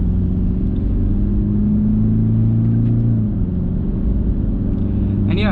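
Toyota Fortuner Legender engine pulling through a deep corner, a steady loud low drone with a rising then falling rev tone, continuous and close throughout.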